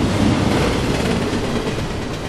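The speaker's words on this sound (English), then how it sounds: "They climbed onto the top of a wooden fence and watched a train rush by." A train rushes past on a railway, a loud, close, steady roar of wheels and rolling stock with rhythmic clickety-clack filling the whole stretch without letup.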